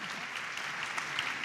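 An audience at a public talk breaks into dense, steady applause, many hands clapping together in an even, continuous wash.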